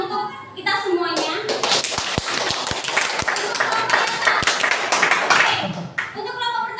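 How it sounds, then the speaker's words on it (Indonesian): A classroom of pupils clapping together in a dense burst of applause, with a few sharp individual claps and children's voices mixed in before it fades out. "Tepuk tangan untuk kita semuanya"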